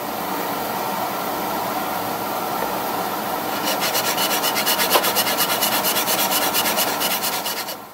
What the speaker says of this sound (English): Files can be used to provide contours on the surface.